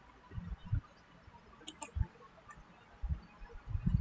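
Soft mouse and keyboard clicks come while a command is typed into CAD software. The clicks are scattered and faint in a quiet room.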